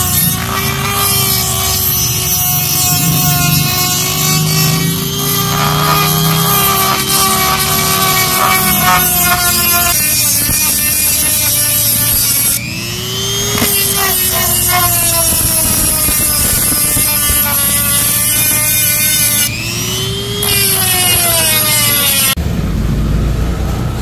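A metal clutch part from a Yamaha Sniper 155 is trimmed with a power tool, giving a loud continuous grinding whine whose pitch rises and dips under load for about twenty seconds before stopping abruptly.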